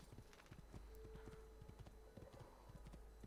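Rapid, rhythmic hoof clip-clops of a galloping horse in Assassin's Creed 2, steady and fairly close, with a faint background hum and no talking.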